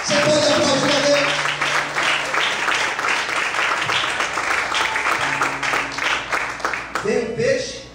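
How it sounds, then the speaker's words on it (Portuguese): Church congregation applauding to God during an evening Portuguese-language sermon on Jonah, a loud, dense wave of clapping with voices and music mixed in, running steadily for about eight seconds before fading into speech. "Você pode aplaudir a Deus?"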